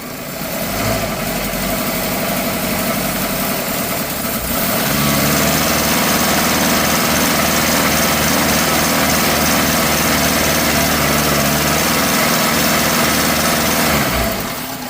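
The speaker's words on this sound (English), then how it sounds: "Let it idle. Raise your RPMs one more time." A car engine idles during a catalytic converter test, then rises to a steady higher-RPM drone for about ten seconds before dropping back toward idle, loud and close with no talk.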